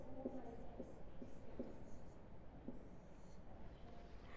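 Chalk or marker writing on a classroom board during a Hindi grammar lesson for young children: soft, quiet scratching strokes in short bursts, faint against a low room hiss, with no talk.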